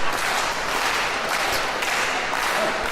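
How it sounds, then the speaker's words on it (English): A wrestling crowd at a tag team match cheers and claps in a loud, dense, continuous roar that fills the hall without a break. "The crowd getting pumped up."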